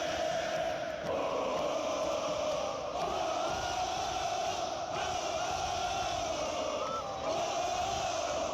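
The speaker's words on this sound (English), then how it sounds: "Whole crowd." A large EuroLeague basketball arena crowd roars and chants continuously, a dense wall of massed voices with surging peaks, loud and sustained throughout.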